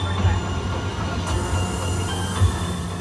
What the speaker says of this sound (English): Welcome back aboard the tram.